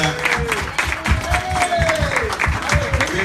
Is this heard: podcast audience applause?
yes